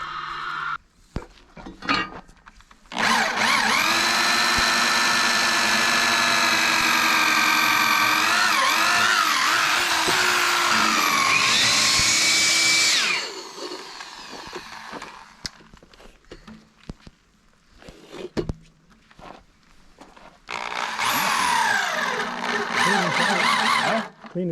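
A power drill boring into timber posts and beams for a timber-frame shed, heard as long sustained whining runs of machine noise separated by quieter gaps with handling knocks.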